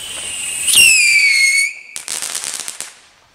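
Fireworks set off outdoors in the Netherlands at New Year: a loud rising whistle with bright tones holds for about a second, then a burst of rapid crackling pops that fade away, with no talking.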